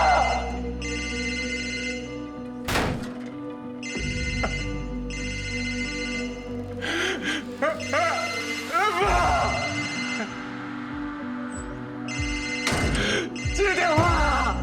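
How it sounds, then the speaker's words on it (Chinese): A telephone rings in a Singapore TV drama scene, with repeated electronic ringtone bursts in a steady on-off pattern. Sharp knocks, clatter and voices cut in between the rings. "接电话！"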